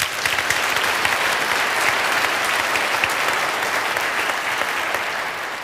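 Sustained applause from a church audience at a festive Christmas concert in Eisenach's Georgenkirche, following a Handel piece played by an orchestra; dense, steady clapping fills the space for the whole stretch without letting up, loud and reverberant.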